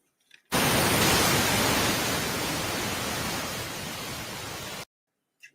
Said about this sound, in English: White noise on, ladies and gentlemen.